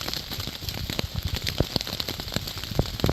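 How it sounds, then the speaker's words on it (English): Rain patters on a backpacking tent in winter, with irregular close taps and drips over a steady soft hiss. "Listening to the rain on the tent is just so peaceful, so relaxing."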